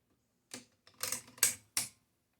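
Typewriter keys or levers on a Triumph Special clack sharply as its margins are set: four crisp mechanical strikes in a loose, uneven rhythm, close up with quiet gaps between.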